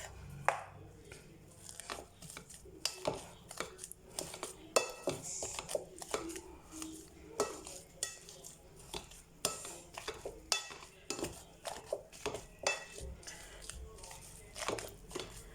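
Cooked pasta with butter and Aromat seasoning is mashed in a pot for a cheesy vegetable pasta: a close, uneven run of soft thuds, squelches and utensil clinks against the metal.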